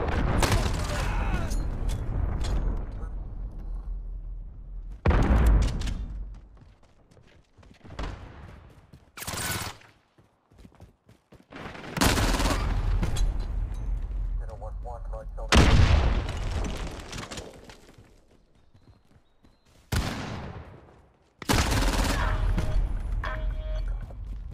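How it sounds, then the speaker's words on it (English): Cruise missile strike explosions in Call of Duty Modern Warfare during a hardcore Team Deathmatch: a series of loud, heavy booming blasts in irregular bursts, each followed by rumbling debris and decay, with brief quieter gaps between impacts. "cruise missile incoming"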